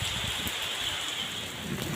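Heavy rain pours down over a village after intense heat, a steady, dense hiss of drops on surfaces that holds evenly throughout, with no voices.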